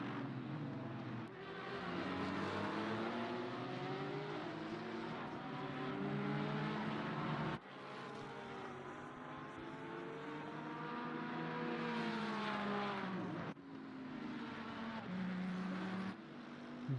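Race cars in the ACC racing game at the Nurburgring, including an Aston Martin, roar steadily with loud, sustained engine tones that rise and fall as cars pass, with brief gear-change breaks and no talk.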